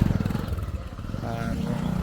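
A motorcycle engine runs with a low, steady, throbbing rumble as the bike rides off near a farm, where a new tractor is being demonstrated. Voices talk over it throughout.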